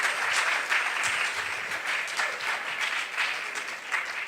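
Applause for contestants at a junior science and maths quiz semi-final, a steady wash of many hands clapping at moderate distance, even and sustained throughout.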